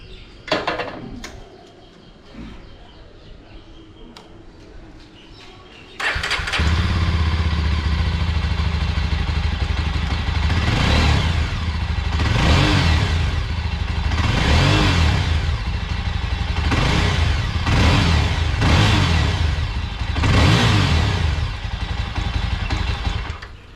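After a quiet stretch, a Yezdi Adventure motorcycle engine fires up and idles loudly, then revs repeatedly in rhythmic bursts of throttle.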